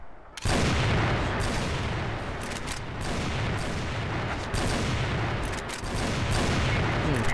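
Sniper rifle fire in the online shooter Crossfire, a dense, loud barrage of gunshots and booms running continuously from start to finish with no voices.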